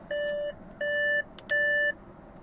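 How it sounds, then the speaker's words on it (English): Door-open warning chime of an Audi A6 C7.5 with the ignition on: three identical steady electronic bleeps in an even rhythm, clear and close inside the cabin. "if your car starts bleeping like that when you open the door with the ignition on"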